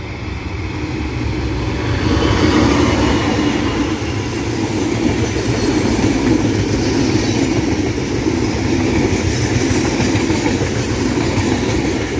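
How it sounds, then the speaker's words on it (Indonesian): A passenger train enters Mojokerto station, rumbling steadily and loudly close by, its wheels rolling with a continuous low roar and faint clatter, no voices. "ini kereta Widoho masuk stasiun Mojokerto"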